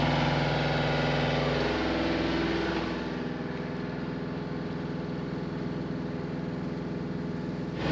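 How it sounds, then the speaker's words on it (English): A sailboat's engine runs near the Northland coast of New Zealand, a steady close mechanical drone that shifts to a lower, even idle partway through, with no voices. "get the engine going"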